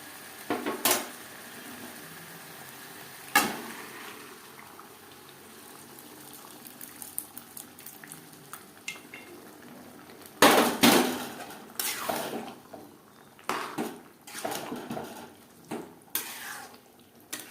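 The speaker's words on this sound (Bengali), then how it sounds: "মশলার সাথে পাঁচ সাত মিনিট বেশ ভালো করে চিকেন কষিয়ে নেওয়ার পর দিয়ে দেবো সেদ্ধ করে রাখা ডাল" Egg chicken tadka cooking: chicken fried with spices in a pan, then boiled dal added and stirred in, with sharp metal spatula clanks and scrapes against the pan over a low sizzling background, denser toward the end.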